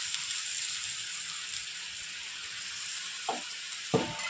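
Thalipeeth flatbread frying in oil on a pan gives a steady, close hiss of sizzling throughout, with a couple of faint knocks near the end and no talking.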